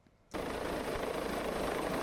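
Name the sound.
helicopter arriving to pick up cargo net at lighthouse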